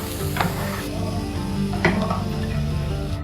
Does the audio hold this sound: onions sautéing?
yes